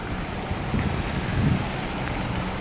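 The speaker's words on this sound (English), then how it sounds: "A lot of traffic, ici," Street traffic rolls past on a busy city street in Montreal's Hochelaga borough, a steady loud roar and rumble of engines and tires with no clear breaks and no talking.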